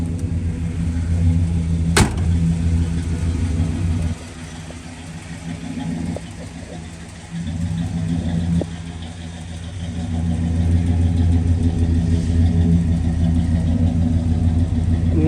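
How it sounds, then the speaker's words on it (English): A 1962 Pontiac Catalina convertible with its factory 389 Tri-Power V8 idles steadily, a deep low exhaust rumble running throughout with a sharp click near the start and slight swells in level. "Nice solid rumble out of the exhaust."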